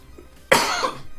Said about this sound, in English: Oh, I can feel another cough coming